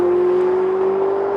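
A Ferrari 488's twin-turbo V8 drones loudly and steadily, its pitch rising slowly as the car accelerates, close and alone.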